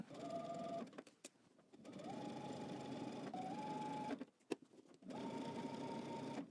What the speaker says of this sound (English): I'm just going to edge stitch all the way up.